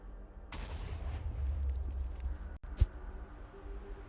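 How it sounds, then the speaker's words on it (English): An explosion in the Minecraft modpack Project Ozone 3 lands as one sudden low boom with a sharp crack near the end, over steady rumbling game ambience, with no talk. "Why did I just hear an explosion?"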